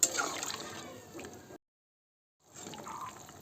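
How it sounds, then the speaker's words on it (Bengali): Water is poured into a pot of simmering vegetables for a thin Bengali fish curry, a close, steady pouring and gurgling that breaks off into silence partway through and then returns. "সবজিগুলো এবার এতে জল দিয়ে দেবো"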